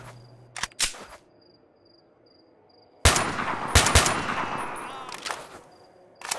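Enemy gunfire in STALKER: Shadow of Chernobyl cracks out as a few isolated sharp shots, then a denser volley of loud rapid reports with echoing tails, over a faint steady insect-like drone; no speech.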